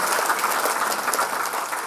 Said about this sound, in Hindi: उन्हें जोरदार तालियों में स्वागत किया जाए